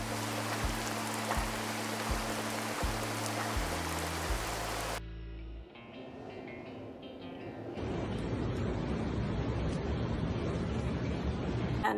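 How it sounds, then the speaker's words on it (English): Steady rain in South Carolina hisses across the whole clip, starting with a low rumble and thumps beneath it, then thinning briefly before returning as a dense, even downpour. "we have a lot of rain."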